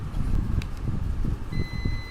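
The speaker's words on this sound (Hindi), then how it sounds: "देखिए दोनों साइड में ही बीप साउंड आएगा।" Continuity beep from a multimeter set to its beep range while probing a transformer's windings: a steady high tone enters midway and holds to the end over loud low rumble and handling noise.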